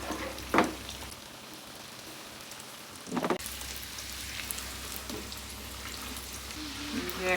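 Nimki dough pieces fry in hot oil, a continuous close sizzle and crackle with a couple of louder bursts as the pieces are stirred or moved, and a voice talks faintly in the background.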